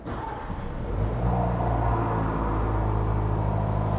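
A 2021 Land Rover Defender 110 SE, 300 horsepower, starting up: a brief crank gives way to a steady, deep engine idle that rises slightly and then holds a loud, even rumble close by.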